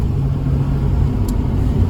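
A steady, low diesel truck engine rumble idles continuously at close range, unchanging throughout with no voices.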